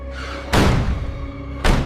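Two heavy door thuds in a cartoon, one sharp slam followed about a second later by another, close and loud over a low sustained eerie tone.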